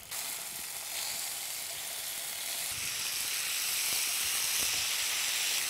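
Quartered tomatoes sizzle and hiss steadily in a hot pan as they sauté for tomato chutney, a continuous bright frying sound that swells slightly louder toward the end, with a few faint stirring clicks.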